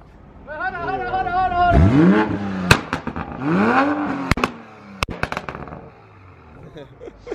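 A tuned Toyota Supra making about 600 wheel horsepower revs hard twice, its engine climbing and falling in pitch, with sharp pops and bangs from the exhaust between revs and voices nearby.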